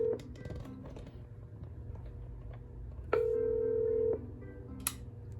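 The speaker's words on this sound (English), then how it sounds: "As you can see, it is now ringing in the background" A single electronic ring tone from a Cisco 7962G IP phone sounds for about a second, steady and clear over a low background hum, with faint clicks before it.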